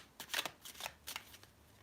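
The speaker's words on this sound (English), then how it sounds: "I'm shuffling now." Tarot cards are shuffled close by in three quiet, crisp riffling bursts separated by short pauses, with nothing else heard.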